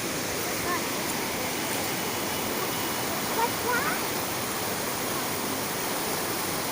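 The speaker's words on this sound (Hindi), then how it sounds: "काफ़ी शोर भी हो रहा है पानियों का, क्योंकि बहुत ज़्यादा पानी है।" Strong, high-pressure stream in a Kashmir valley rushing beneath a small iron footbridge, a steady broadband roar that holds evenly throughout with no voices.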